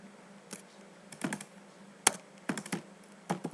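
Keys on a computer keyboard are tapped in a short, irregular run of soft clicks as a project name is typed, close and quiet with brief gaps between strokes.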